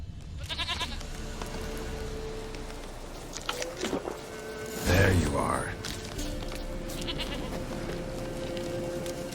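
A goat bleats in The Witcher 3, a single loud bleat in the middle of steady game ambience and music, with fainter animal sounds around it.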